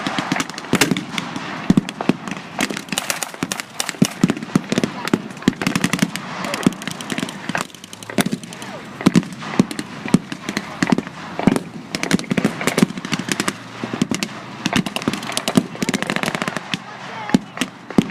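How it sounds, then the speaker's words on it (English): Rapid bursts of heavy gunfire crackle and pop irregularly from M8 armored cars firing on German forces in a WWII battle, loud and dense throughout. "The M8s fire heavily on the German forces."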